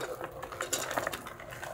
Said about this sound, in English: We'll drop the tinda in.